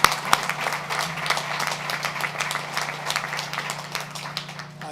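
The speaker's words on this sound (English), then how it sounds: "Let's give them another big round of applause." A moderate round of applause from a crowd honouring associates and workers at the Honda plant in Alliston, scattered claps at first settling into a fairly steady, somewhat distant clapping.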